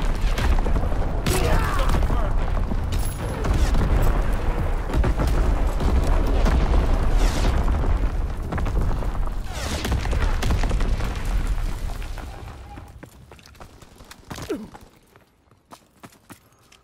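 Artillery barrage in Call of Duty WWII, a dense, continuous rumble of shell explosions and blasts that rolls on loudly for about twelve seconds before fading into quieter battlefield noise.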